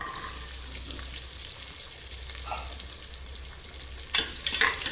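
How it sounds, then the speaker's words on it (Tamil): Small onions dropped into hot oil already frying with spices for a Tamil mutton intestine curry, a steady soft sizzle throughout with a brief louder crackle and stir near the end. "அந்த புறம் பொறிஞ்சிருச்சுப்பா அந்த வெங்காயத்தை போட்டுருவோம்"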